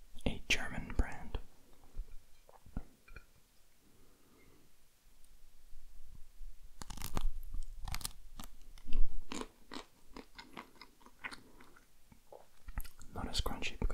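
Loud, crisp crunching bites and chewing of frozen Jaffa cakes up close, in bursts separated by quiet moments and soft whispered talk.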